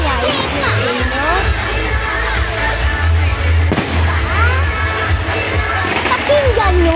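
Fireworks bursting in rapid succession over a crowded town plaza at night, loud and continuous, with crowd noise and people talking over the blasts.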